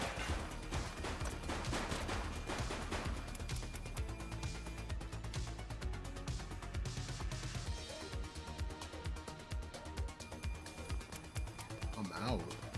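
Gunfire from the police video game The Precinct crackles in dense bursts throughout, mixed with game music and effects, while a voice talks over the action.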